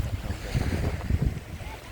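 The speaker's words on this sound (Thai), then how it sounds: "คลื่นซัดฝั่ง" Steady surf washes and rumbles continuously on the shore at Chao Lao Beach, Thailand, in the evening, with gusty wind buffeting the microphone throughout.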